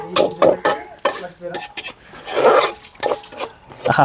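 Fingers and utensils work rice and drumstick-leaf curry together on a plate, producing repeated clinks, scrapes and squelchy mixing strokes at close range, loud and irregular, with faint voice traces.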